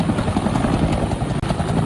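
A Bell 212 helicopter flying, a steady loud rotor thrum and engine roar that stays constant throughout.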